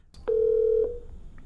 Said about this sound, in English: and now I'm going to call Kirk